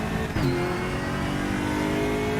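Race car engine in the RaceRoom racing game revving steadily and climbing under acceleration out of a corner, with a brief gear-change dip early on; loud and continuous, with no voices.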